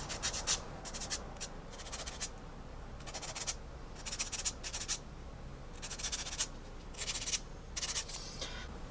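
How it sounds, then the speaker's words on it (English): Quick scratchy rubbing strokes come in short rhythmic bursts with brief pauses, a small sanding stick cleaning up attachment points on a plastic model helicopter part up close. "my sanding stick, I'm just going to clean up the attachment points"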